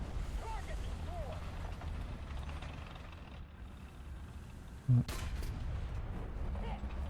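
One loud, sharp blast from an M60 120S tank cannon in the War Thunder video game rises out of low engine rumble and ambient noise, with a brief rattle after it.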